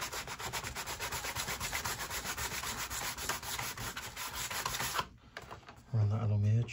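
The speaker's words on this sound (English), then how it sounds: "Just a bit of sandpaper." Sandpaper rubbed back and forth along the edge of a model railway part, a steady close scratchy rasp for about five seconds, then a short pause followed by a brief burst of louder noise.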